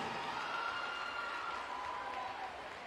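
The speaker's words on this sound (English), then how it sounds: "Let's have a big round of applause for our junior female best dancer top 12." An audience at a junior dance competition awards announcement applauds in a steady, even wash of clapping that stays fairly faint and distant throughout, with no voices over it.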